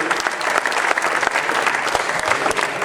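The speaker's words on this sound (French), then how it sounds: "Merci beaucoup, on peut les applaudir." Crowd at a football club's season presentation applauding the staff, a dense, loud burst of many hands clapping close by and without talk for about three seconds.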